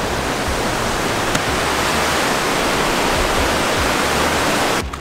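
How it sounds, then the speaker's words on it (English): A raging river near McCarthy, Alaska roars loudly and close by, a continuous wall of rushing water with no let-up, cutting off abruptly at the very end. "we're walking across a raging river right now"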